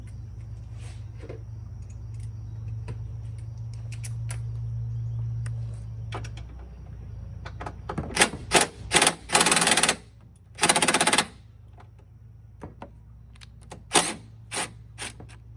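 An impact gun rattles in several short, loud bursts while removing a 10 mm bolt on a 2015 Ford Focus, following a steady low hum, with scattered clinks of tools after the bursts.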